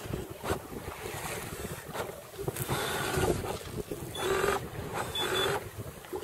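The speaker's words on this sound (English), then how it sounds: "It's a bit of a breeze, so I'm under sail." Steady breeze rushes over a sailboat under sail at sea, a continuous wash of wind noise with soft gusts and lapping water, no voices.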